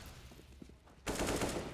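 Pistol gunfire in a Counter-Strike match on the Nuke map, heard as a sudden dense burst of rapid shots that starts after a quiet stretch, loud and close.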